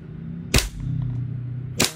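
A WE RIS V3 gas blowback airsoft rifle fires two sharp cracking shots a little over a second apart, loud and close against a low steady background hum.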